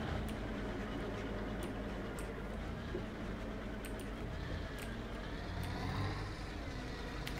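A loud, steady Ford truck engine roar in Euro Truck Simulator 2, with a rough, rumbling exhaust, running continuously without pause.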